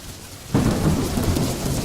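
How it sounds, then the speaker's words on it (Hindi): Heavy monsoon rain pours steadily while a loud roll of thunder breaks in suddenly and rumbles on beneath the dense hiss of the downpour. "कुछ दिन बीत जाते हैं। बारिश का मौसम शुरू हो चुका है।"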